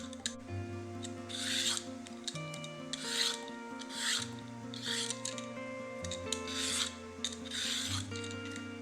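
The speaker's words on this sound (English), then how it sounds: "Start by peeling the carrots" Carrots being peeled in a kitchen, a steady run of close, scraping rasps repeating about once a second under a quiet background hum.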